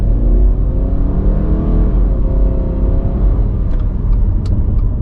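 A 2020 Subaru Forester Sport accelerates gently, its engine drone heard from inside the cabin as a steady, loud hum with rising tones over a constant road rumble.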